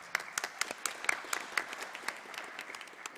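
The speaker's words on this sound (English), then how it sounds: "great speakers with a round of applause" Audience at a Global Landscapes Forum conference session in Nairobi applauds its speakers, a moderate round of scattered handclaps with sharp individual claps standing out, heard alone without talk.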